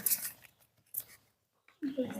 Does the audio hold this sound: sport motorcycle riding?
no